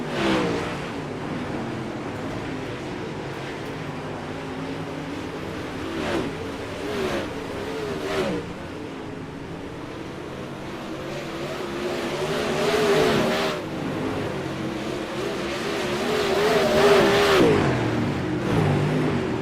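Dirt track super late model race cars roar around the oval, engines droning and revving in overlapping waves that swell and fade as the field passes, loud and continuous from start to finish.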